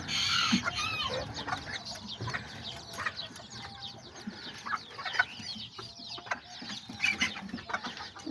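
A mother hen clucks among her newly hatched chicks, with soft repeated clucks and thin high peeping close by and no talking.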